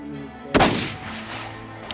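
A single loud rifle shot rings out while hunting Dall sheep in the far north, a sharp crack followed by a rolling echo that fades over a second, with faint outdoor ambience around it.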